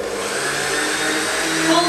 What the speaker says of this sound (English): Full speed, and you whisk it until the meringue is formed.